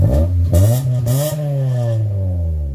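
An Accord car's engine cranks and catches, then revs up and settles into a steady, loud idle close by.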